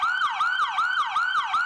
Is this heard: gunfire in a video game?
no